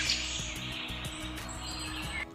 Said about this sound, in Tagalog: ang mga huni ng ibon